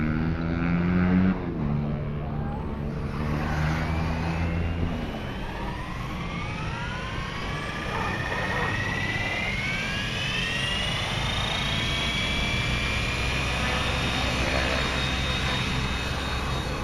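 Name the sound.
Copter X 600E Pro nitro RC helicopter hovering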